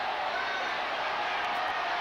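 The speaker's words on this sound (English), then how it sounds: "The crowd going berserk." A stadium crowd at the 1981 Brisbane rugby league grand final between Souths and Redcliffe, a steady, roaring wall of distant cheering that holds without a break, under a commentator.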